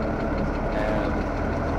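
An old 1086 tractor engine idles, heard from inside the cab, a loud, continuous, steady rumble with no pauses throughout.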